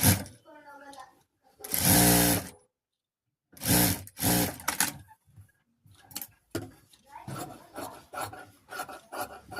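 Blouse fabric is stitched on a sewing machine in several short, uneven bursts separated by gaps, close and fairly loud, with handling noises in between.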